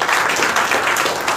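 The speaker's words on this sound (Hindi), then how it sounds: "आप ताली हल्की बजा रहे हैं" Light clapping from an audience at a spiritual talk in Kanpur, a brief, fairly loud and dense patter of hands with no voices over it.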